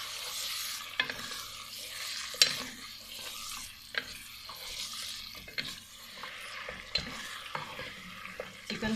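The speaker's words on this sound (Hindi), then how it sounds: "और इसको फ्राई कर लेते हैं।" Chicken frying in a pan for a green chicken curry, a steady sizzle broken by repeated scraping stirs of a spoon against the pan, close and clear with no talking.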